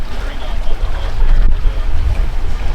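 A sailboat running downwind in 15 knots of wind over one-foot seas, with steady broadband wind and water rush close to the microphone throughout, with light buffeting and no distinct talk.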